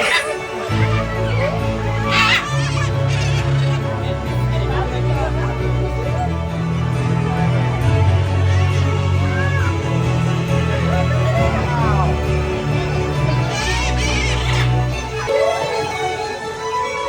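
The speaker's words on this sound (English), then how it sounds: "And we can see skies filled with macaws," Blue-throated macaws flying over an outdoor show crowd at Disney's Animal Kingdom, giving a few harsh, scattered squawks over steady crowd chatter and a low droning background.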